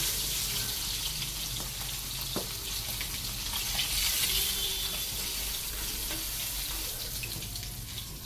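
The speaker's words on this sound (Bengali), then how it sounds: "দূর থেকে দেখো ফুটছে খুবই" Oil bubbling and sizzling hard in a cooking pan on the stove, a steady broadband crackle and hiss that runs through the whole clip with no talk.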